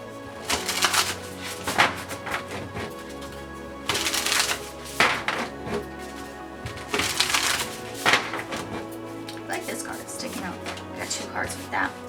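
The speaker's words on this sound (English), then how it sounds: "I'm super excited to go ahead and start shuffling these cards" Tarot-style reading cards are shuffled close up in repeated bursts of riffling and flapping, with soft clicks and slaps between them, over a steady low background hum.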